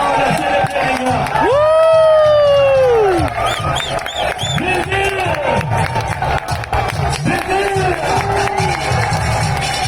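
Cricket crowd at a sixes tournament in Hong Kong cheering after a win, a loud sustained roar of voices with shouts and claps; a commentator talks over it.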